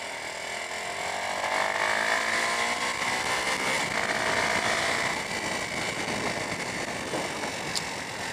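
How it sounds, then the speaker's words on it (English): Motorcycle engine rattle from loose cam chain tensioners, heard while riding on a road as a steady, loud mechanical clatter layered over engine drone and wind rush. "some loose cam chain tensioners. That's what the rattle is that you're hearing on the bike"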